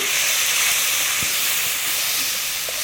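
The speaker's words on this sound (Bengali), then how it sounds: "খুব সুন্দর করে আমি এখন কষাবো" Tomatoes with salt and turmeric sautéing in a pan, a loud continuous steamy hiss with only a couple of faint knocks from stirring, close by.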